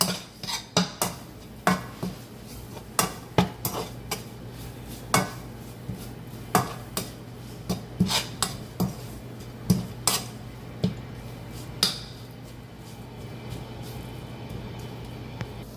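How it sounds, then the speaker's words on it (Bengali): Ginger-garlic paste, biryani spice mix and chopped chillies being stirred in oil in a pan with a utensil, giving repeated scraping clinks against the pan over a steady low hum, with no talking. "আর এগুলোকে ভালো করে তেলের মধ্যে নেড়ে নেবো।"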